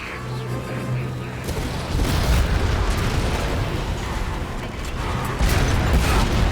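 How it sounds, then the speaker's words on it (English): Explosions in the Halo 4 video game: heavy booming blasts and rumbling bursts, loud and close, with a strong hit near two seconds and another near five and a half, over constant battle noise. "Explosions are not your friend"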